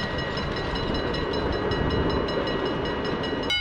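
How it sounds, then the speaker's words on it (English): A miniature steam train rumbles past on the tracks with a continuous rolling clatter and faint high whistling tones, steady and moderately close, in The Hague. "These are, by the way, real steam engines"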